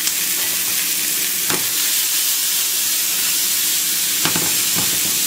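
Cooked vegetables going back into a hot pan at medium heat, a loud, dense and steady sizzle that hisses throughout, with a few brief scrapes and knocks as they are stirred.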